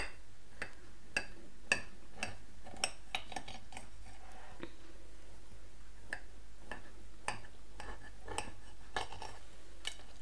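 A knife cuts through a light, airy coconut cake, with scattered sharp clicks and taps of the blade against a plate or board at an irregular rhythm, fairly quiet and with no talking.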